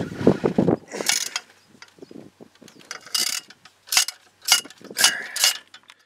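A socket wrench with a quarter-inch long extension and swivel works on a Ford F-250/F-350 Powerstroke 6.0 engine, giving repeated close ratcheting clicks in short irregular bursts with pauses between.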